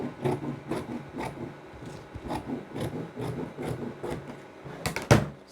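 Scissors snipping off one inch of jacket lining fabric, a steady series of close, crisp rasping cuts with a sharper snip near the end, no talk.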